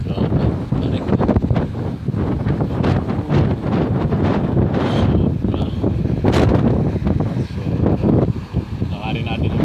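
Strong gusting wind on the Dingli Cliffs buffets the microphone throughout with a loud, constant roar, and a person speaks over it now and then.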